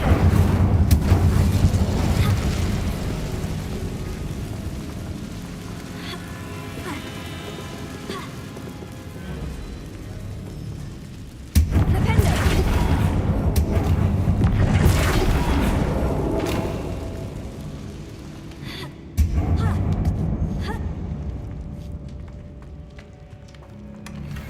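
Incendio fire spell cast in Hogwarts Legacy, a dense roaring whoosh of flame with rumbling booms, loud and sustained, cutting back in with sudden surges twice before tapering off.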